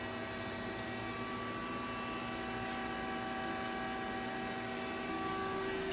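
A 1999 Mazak Quick Turn 250 HP CNC lathe with its spindle running, a steady faint hum with several sustained whining tones, continuous and without talk.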